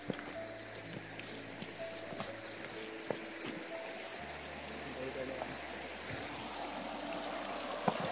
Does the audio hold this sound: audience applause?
no